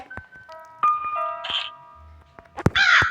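Crow caws in the horror game Granny, Chapter 1 sewer escape, sounding as a few harsh calls near the end among game tones and clicks, with no talking.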